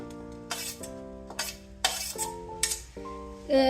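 Chopped radish, cucumber, carrot and onion are tossed together in a bowl, with a utensil striking the bowl in repeated crisp clinks and scrapes. Steady background music with sustained tones plays underneath.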